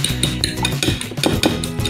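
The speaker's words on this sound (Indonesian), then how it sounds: "Lalu kita aduk." Cracked eggs stirred in a bowl, the utensil clinking and scraping against the sides in a quick, steady rhythm, close and fairly loud.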